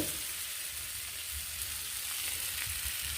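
Pre-fried bamboo shoot and taro sauté in hot oil in a pan, a steady close sizzle with light stirring, no voices over it.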